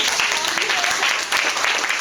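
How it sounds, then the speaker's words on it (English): Audience applause for Mark, owner of the Glam Bar Charlotte, at a gathering: a steady, fairly loud wash of clapping with voices mixed in, lasting a couple of seconds. "So give Mark a round of applause."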